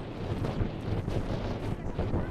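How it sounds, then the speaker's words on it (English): Outdoor wind rushing and buffeting the microphone at a graduation gathering, a fairly quiet, continuous low rumble with uneven gusts and no clear voices. "look at all this wind"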